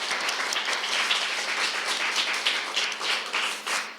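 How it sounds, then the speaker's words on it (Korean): A church congregation applauds during a Sunday service, a dense, even wash of many hands clapping close and fairly loud for about four seconds with no speech over it. "박수 좀 한번 칠까요?"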